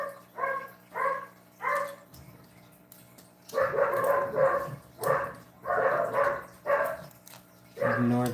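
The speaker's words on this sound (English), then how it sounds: "Ignore the dogs once again." Dogs barking indoors, repeated close barks in uneven bursts with short pauses, some overlapping and yippy.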